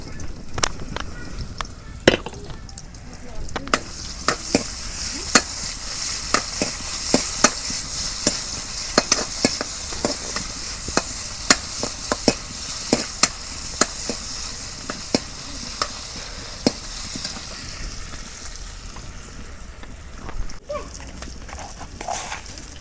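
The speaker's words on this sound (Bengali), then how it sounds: "পেঁয়াজ কুচি দিয়ে দিলাম" Chopped onion sizzles steadily in hot oil in a pan for a village-style taki fish and ash gourd curry, with frequent sharp scrapes and clacks of a spoon stirring throughout, no voices.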